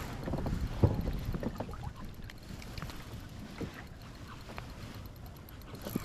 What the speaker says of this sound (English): God, the wind's blowing me right into the dock.